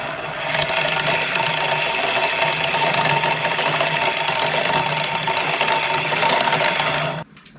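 Motobécane N40 moped engine running steadily close by, a buzzy rattling two-stroke drone that holds nearly constant for about seven seconds before cutting off abruptly.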